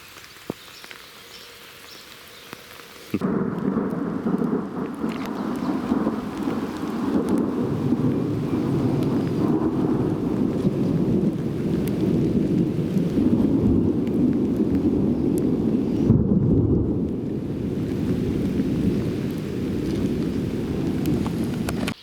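Rain from a thunderstorm beside the Hinds River in New Zealand bursts in after a quiet start, then keeps up a loud, dense, steady hiss with a low rumbling undertone, without talk.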